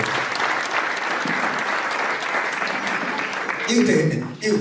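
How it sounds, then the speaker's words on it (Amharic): A church congregation claps together in sustained, dense applause at a revival-style service, loud and close, with voices calling out near the end. "አጨብጭቡ እስኪ ለጌታ"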